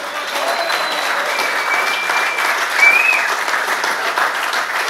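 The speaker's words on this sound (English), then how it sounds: "Ladies and gentlemen, a massive round of applause for the one," Audience applause rings out for Ray Blacklock at a retro rugby league event, a steady, dense wash of clapping that holds at an even level for the whole stretch, with no voices standing out above it.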